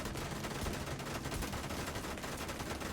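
Gunfire aimed at the player during a PvP match in The Division 2, rapid dense bursts of automatic shots rattling on without pause, fairly faint and distant.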